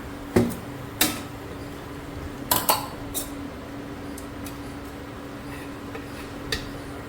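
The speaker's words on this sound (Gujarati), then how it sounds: "બસ હવે કરી દઈશું કુકરનું ઢાંકણ બંધ." A pressure cooker lid clanks shut in a village kitchen: a few sharp metallic clicks and taps, close and fairly clear, over a quiet steady hum with no talking.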